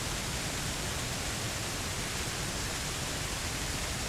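A steady waterfall in Red Dead Online, an even broadband rush of falling water, continuous and unchanging, with no other sounds.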